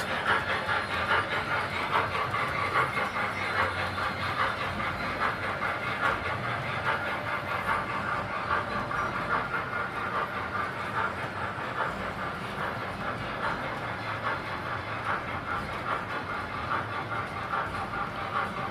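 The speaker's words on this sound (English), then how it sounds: "Love that military train." O gauge model military train running on a large indoor layout, a continuous rolling rumble and faint clickety-clack with a light hiss, steady and moderately loud throughout, with no talking.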